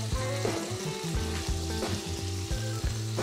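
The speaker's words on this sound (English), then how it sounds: "Mash that baby down there real good like that." A burger patty pressed flat with a bacon press sizzles and fries loudly and steadily in a cast iron pan, with a few clanks of the press along the way.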